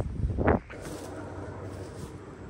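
Wind gusting across an open blueberry farm, a steady broadband rush with a brief louder buffet near the start, continuing alone at moderate level with no talk.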